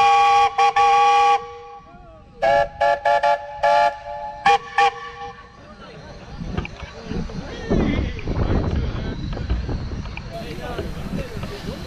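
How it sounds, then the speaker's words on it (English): A loud steam donkey whistle blows in several sharp bursts of varying length at an outdoor fair, then gives way to a busy crowd murmur with people talking. "They just want to hear that whistle anyway"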